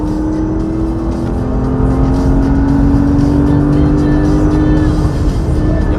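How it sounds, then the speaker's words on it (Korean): A Porsche Panamera GTS accelerates hard, heard from inside the cabin as a loud, continuous engine drone whose pitch climbs steadily. A rush of road and wind noise sits underneath, and no one speaks. "자, 순식간에 속도가 극한적인 속도로 올라가는데요."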